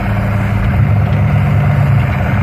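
A 1086 tractor engine idles steadily nearby, a loud, even low diesel rumble that holds constant with no talk over it.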